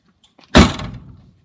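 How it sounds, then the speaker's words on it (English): The back door of a Ford Focus slams shut with a single sharp, close thud, followed by a brief rattling decay after a couple of faint handling clicks. "That's just a fault with me wanting to slam the door of the back door of the car."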